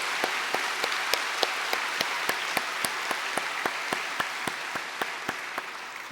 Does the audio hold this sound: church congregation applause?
yes